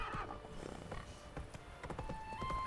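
Roach the horse in The Witcher 3 video game, with hoof clip-clops mixed among neighs and whinnies, fairly close and steady over a busy background.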